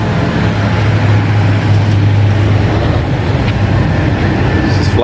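Busy street traffic in the Philippines, a loud, dense wash of passing engines and road noise with a steady low rumble from nearby vehicles.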